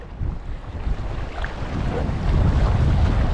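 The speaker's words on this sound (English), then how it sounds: "Just got to be careful with the wind." Steady wind buffets the microphone during bass fishing on the UK coast, a loud low rumble that swells and gusts with faint water wash underneath, with no voices.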